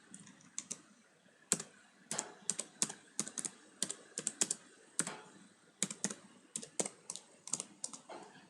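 Someone types on a computer keyboard nearby, quick bursts of crisp key clicks with short pauses between groups, fairly quiet over a still room.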